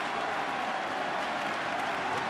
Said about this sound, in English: They've been cheering since 4 or 5 o'clock local time.